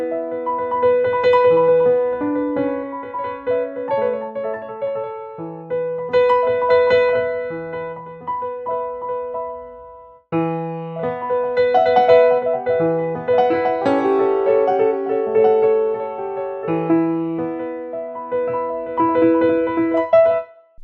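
A sparse, unpolished orchestral intro sketch of sustained chords and simple melodic lines, pausing briefly midway before resuming fuller and busier, with no voices.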